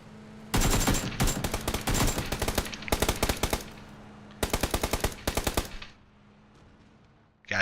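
Bursts of automatic gunfire and sharp sniper-style shots in a video game, with loud rapid volleys around two rounds of clustered fire, then a quieter tail with a distant shot at the end.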